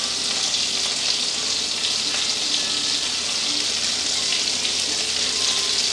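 Blackened Cajun shrimp sear in a hot pan, giving a steady, close, bright sizzle that holds evenly for the whole stretch with no talking over it.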